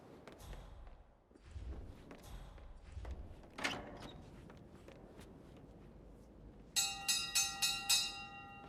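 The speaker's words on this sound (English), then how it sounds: "Some idiot rang the bell by mistake." A bell rings out at Thornbridge Manor in the video game Hitman 3: a run of about five bright, evenly spaced metallic strikes near the end, after scattered thumps and footsteps.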